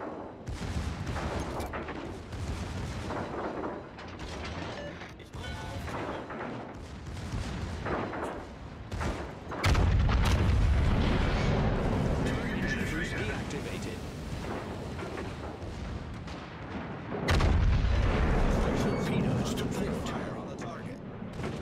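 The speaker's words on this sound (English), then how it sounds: "All stations requesting fire on the designated target." Battleship naval guns firing in the World of Warships video game, heavy booming salvos recurring amid rumbling battle noise, with a voice speaking over parts of it.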